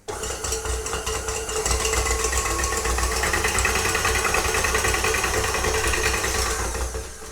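A kitchen stand mixer whips heavy cream, a steady loud motor whir with a dense high rattle that holds throughout and eases off at the very end, with no voices.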